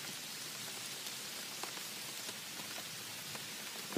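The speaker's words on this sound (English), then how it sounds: "The rain's been off and on." Steady rain patters on the woods around a covered hunting stand on a Georgia morning in December, a continuous soft hiss of drops with occasional sharper ticks close by, no voices present.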